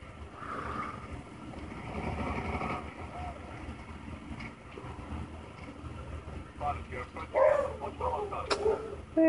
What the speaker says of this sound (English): And there goes Poppy barking